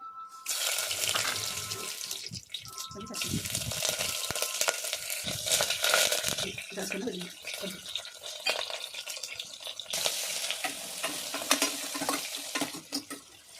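Mustard seeds, green chillies and crushed spices sizzle and crackle in hot oil in bursts, close by, with clinks and stirring noises and brief pauses between.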